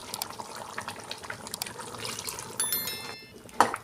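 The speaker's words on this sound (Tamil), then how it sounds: "மிக்ஸி ஜாரையும் அலசி நம்ம இந்த தண்ணியை சேர்த்துக்கலாம்." Rinse water from a mixer jar poured into a country chicken curry, a brief splashy liquid pour with tap-like trickling and a few small clinks, close and fairly quiet.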